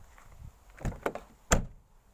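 A Mercedes W210 car door shuts with a couple of soft, solid thumps followed by one sharper, heavier closing thud, each short and close against a quiet background.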